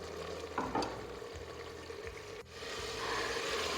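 Mutton pieces frying in a pan for mutton masala, a close steady sizzle with occasional stirring scrapes and clinks, brief spoon knocks standing out before the sizzle swells again.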